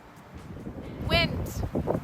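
Outdoor wind buffeting a microphone produces low rumbling gusts and rustle, with a brief sharp chirp-like sound in the middle.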